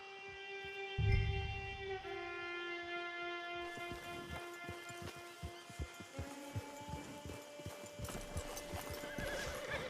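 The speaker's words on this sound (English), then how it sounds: "Hitch your horse." Horse hooves clip-clopping at a walk in Red Dead Redemption 2 with a loud whinny early on, set against sustained tonal music and ambient game sounds.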